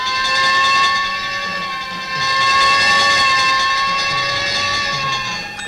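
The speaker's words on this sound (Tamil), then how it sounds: "ஃபயர் இன்ஜின் போற சத்தம் கேட்டது அதான்" A fire engine passes with a loud, sustained horn-like tonal wail that holds steady for several seconds over a rumbling background, with no talking.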